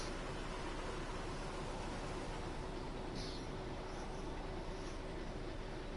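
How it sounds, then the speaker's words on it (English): An aggregate freight train passes in the video game Train Sim World 5, a steady, even rumbling roar that holds at constant level for the whole stretch, with no talking. "Aggregate train."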